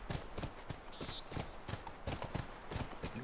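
Horse hooves clip-clopping steadily in the video game The Last of Us, a close, rhythmic run of hoofbeats with a brief whinny-like tone, faint talk in the background.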